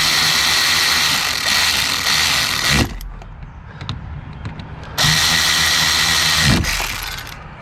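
Power tool whirring in two sustained bursts with a quiet pause between, torquing a bolt while installing an expansion valve on a 2012 VW Jetta 2.5, heard close up.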